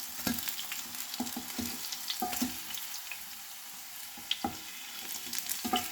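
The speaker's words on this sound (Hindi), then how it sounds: "हम इसको फ्राई करेंगे जब तक दोनों तरफ से ये लाइट गोल्डन ब्राउन नहीं हो जाता" Pineapple pieces frying in a pan until golden, a low steady sizzle broken by repeated clicks and taps of a spatula turning the pieces, fairly quiet and without talk.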